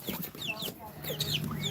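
Chickens clucking nearby in quick, chirpy bursts, several birds overlapping over a short stretch, with a faint low background hum.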